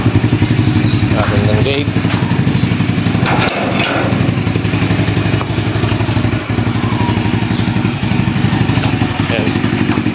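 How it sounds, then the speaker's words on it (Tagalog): A modified Raider 150 motorcycle engine runs close by with a loud, continuous, rapidly pulsing rumble and some mechanical clatter, while a voice speaks briefly over it. "paandar na natin tong motor"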